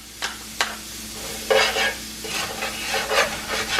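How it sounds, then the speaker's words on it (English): Onions and peppers sautéing in a pan, a few sharp spatula scrapes and taps over a steady gentle sizzle, close by. "to saute the onions and peppers"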